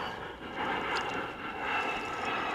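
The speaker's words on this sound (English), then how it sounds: "Jet fighters." Jet fighter aircraft passing overhead above a kayak on the water during a catfishing trip, a steady broadband roar that swells and fades slightly over a few seconds, with no talking.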